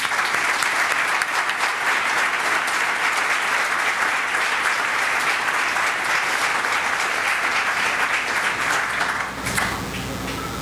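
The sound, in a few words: audience applause for the graduating cohort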